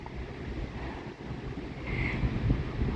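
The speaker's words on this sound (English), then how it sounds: "This wind is blowing me all over the place." Strong wind buffets the microphone outdoors at a campsite, a continuous low rumbling roar that swells toward the end.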